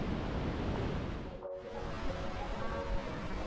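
Fast-flowing Buna river near Mostar, heard as a steady, dense rush of water noise with no clear breaks, moderately loud and close, with a brief dip in the middle.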